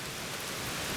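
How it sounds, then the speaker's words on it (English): Heavy rain outdoors falls as a dense, even hiss of broadband noise, steady and moderately loud for a brief moment, with no voices. "It's really raining"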